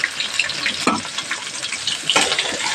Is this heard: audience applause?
no